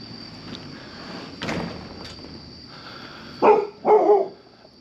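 A neighborhood dog near a shop garage barks twice in quick succession, loud and close, after a stretch of quieter background noise with a faint steady whine.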